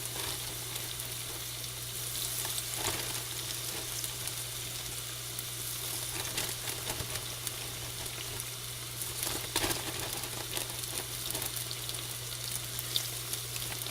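Food frying in a pan of oil, a steady broadband sizzle with a constant low hum underneath, moderately loud and unbroken throughout, with no talking.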